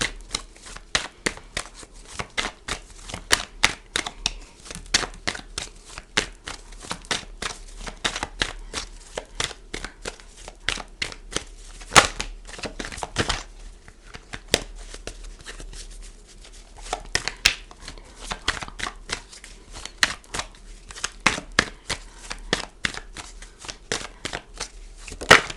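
Tarot cards being shuffled over and over, a long run of quick crisp riffles and flicks at close range, steady and continuous with no voices.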